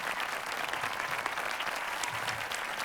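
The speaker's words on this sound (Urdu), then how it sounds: "آپ سب کی بھرپور تالیاں۔" Sustained, dense applause from a large audience at a mushaira poetry gathering, steady and full throughout with no voices standing out.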